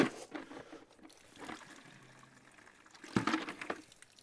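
Water runs and splashes while a koi pond filter is rinsed out, a fairly quiet trickling and pouring with a louder burst of splashing near the end.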